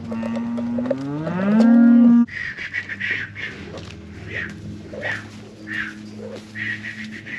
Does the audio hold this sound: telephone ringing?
no